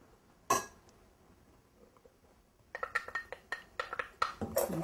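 A spoon stirs sugar, salt and flour in a bowl for a custard filling. After a single clink, a quick run of light, rhythmic taps against the bowl follows, close and clear.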